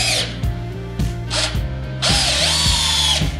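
A homeowner battery drill drives a screw in close, loud whirring bursts: three short spurts, then a longer steady run that strains as the screw seats.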